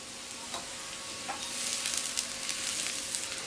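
A chickpea dosa sizzles on a hot pan with oil drizzled around its edge, a continuous close crackling hiss that grows slightly louder and busier toward the end.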